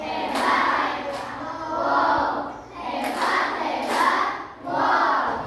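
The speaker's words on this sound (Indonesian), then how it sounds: "Nah, tepuk hebat." A school class performs the rhythmic "tepuk hebat" clapping chant, voices shouting together in repeated bursts of about a second each, with sharp clap accents cutting through the group chant.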